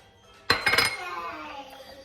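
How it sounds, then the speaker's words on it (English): Eggs going into a jug of milk for an impossible quiche: a sudden clinking knock against the jug, then a few quick rattling taps that ring briefly and fade. "in the jug of milk, add the 4 eggs"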